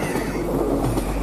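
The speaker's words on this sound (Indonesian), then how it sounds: "datang kereta" A train passes at night, a loud, steady rumble with rolling wheel clatter that fills the short stretch with no one talking.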